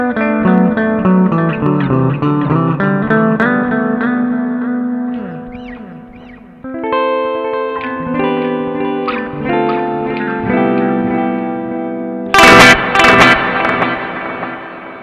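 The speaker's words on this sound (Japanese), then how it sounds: "リバーブと一緒にディレイが足されるモードです" An electric guitar plays through a BOSS RV-6 reverb pedal set to its reverb-with-delay mode. Picked notes and chords ring out with long, echoing repeats and a lush tail, followed by a brief noisy burst near the end.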